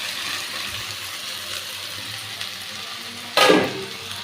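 A steady low sizzle rises from a pan of spice paste over a low gas flame, and a sudden louder hiss and clatter follow as fried potato and bitter gourd are tipped in.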